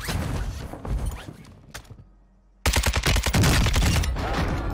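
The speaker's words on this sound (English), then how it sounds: "I hear those AI gunshots and know that my enemy must be close." Bursts of AI gunfire in Warzone 2, loud and close: a rapid volley, a sharp lone shot, a short quiet gap, then sustained automatic fire with dense repeated cracks to the end.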